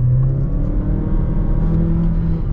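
A 2024 Dodge Hornet R/T under hard acceleration, heard as a loud, steady engine drone and rumble from inside the cabin, rising slightly in pitch, with no talking.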